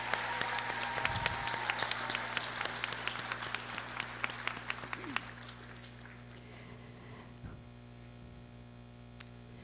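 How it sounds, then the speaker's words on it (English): Applause from a graduation audience, a dense patter of many hands clapping for about five seconds before thinning to scattered claps over a steady electrical hum. "Let's please give my student another round of applause."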